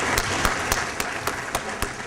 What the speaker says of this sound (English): I'd just like to give thankful applause for the work that you do.